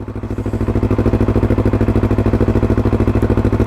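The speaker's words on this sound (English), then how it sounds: "It's a cold start, so I'll just let it, you know, idle for a little while." Up close, a Yamaha R3 motorcycle with a full system exhaust idles after a cold start, its loud, even, rapid pulsing steady throughout.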